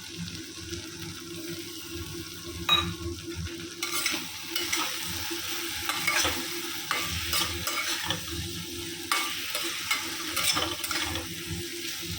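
Chicken pieces frying in butter in a pan with a splash of water added, stirred with steady scraping and a continuous soft sizzle, close and moderately loud, with no talking.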